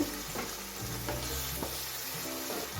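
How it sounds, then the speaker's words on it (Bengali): Chinese mixed vegetables stir-fried in a pan over a gas flame, with a constant sizzle and repeated scraping stirs at a steady rhythm, close by and with no voices. "সবকিছু ভালো করে মিশিয়ে দিচ্ছি পরে আমি কিছুক্ষণ রান্না করে নেব"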